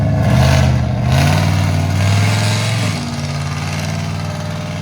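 A lowered Nissan Titan's 5.6L V8 with headers and a Flowmaster Super 10 exhaust rumbles loud and deep close by, revving up and holding before easing down to a lower, steady throb.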